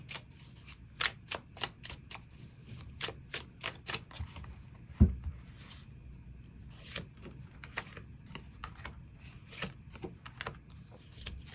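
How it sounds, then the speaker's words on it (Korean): Tarot cards drawn and shuffled for a love reading: a long run of quick, quiet snaps and riffles, close and soft, with one sharper tap near the middle and no talking. "새로운 인연의 등장 가능성 시기 추가 카드 뽑아보도록 하겠습니다"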